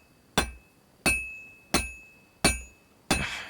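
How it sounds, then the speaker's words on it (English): Metal struck with a hammer on an anvil at a smithing forge in Kingdom Come Deliverance 2: five sharp, ringing clangs spaced evenly, each with a short metallic decay, close and clear, with no talk. "I have to hammer it more evenly."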